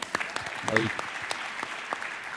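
Short, scattered clapping from an audience at a business panel discussion, with individual sharp claps and a voice briefly heard over them.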